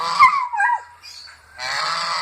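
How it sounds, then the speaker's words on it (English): A farmyard goose honks loudly and close by, with a few harsh, drawn-out calls separated by brief pauses. "Here's the other goose."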